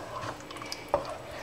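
Meatball pasta sauce stirred in a pan, with soft wet sloshing, a few faint liquid drips and one clearer utensil tap, brief, close and quiet with no talk.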